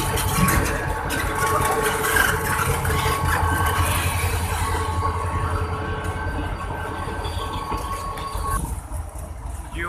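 Locomotive GU304710 rumbles through shunting duty at a Pakistani railway station, a steady, loud engine drone with rail clatter that holds for about ten seconds and eases slightly near the end, with no voices.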